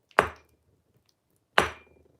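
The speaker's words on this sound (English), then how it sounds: "This is the sound of me putting it on the glass table." An object is set down twice on a glass table, two crisp, fairly close knocks about a second and a half apart with short ringing tails and quiet in between.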